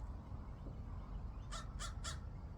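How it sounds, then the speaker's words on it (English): Three harsh crow caws ring out from high up, fairly distant and evenly spaced in quick succession, over a steady low outdoor rumble. "There's a very noisy crow up there."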